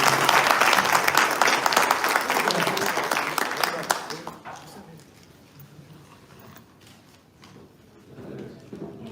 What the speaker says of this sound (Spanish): Así que por favor ya les pido un fuerte aplauso para él.